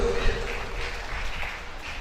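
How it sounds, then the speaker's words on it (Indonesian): A crowd at a Qur'an memorization graduation ceremony in Angkasa Pura village claps steadily for about two seconds, moderately loud and filling the room, with a voice faintly underneath. "Tepuk tangan dulu."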